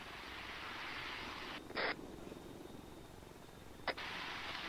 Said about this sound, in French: Hélicoptère ennemi.